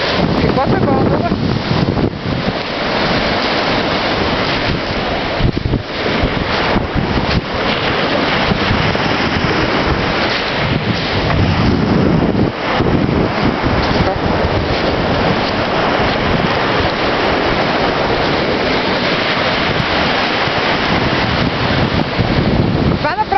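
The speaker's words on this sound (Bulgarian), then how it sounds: "Като слушам вълните, знаеш как ме успокояват?" Sea waves roll onto the shore under heavy, continuous wind buffeting the microphone, a dense steady roar that lasts throughout with voices faintly mixed in.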